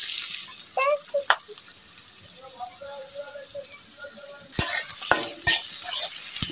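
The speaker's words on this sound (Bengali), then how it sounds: "এদিকে আমরা পেঁয়াজগুলো ভেজে নিচ্ছি।" Chopped onions fry in hot soybean oil in a wok-style pan, soft sizzling broken by a few sharp stirring clinks and scrapes, louder toward the end, with brief background voices.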